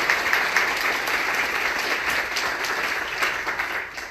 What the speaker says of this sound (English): Huge round of applause for your panel.